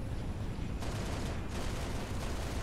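Sustained gunfire in the Halo: Reach video game during VTOL aerial combat: a dense, loud barrage of rapid shots over a constant low rumble, intensifying in bursts partway through, with no voices.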